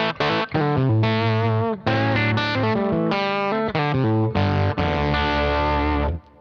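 Dirty, overdriven electric guitar through an amp plays a series of distorted chords and notes, loud and close, with brief gaps between phrases.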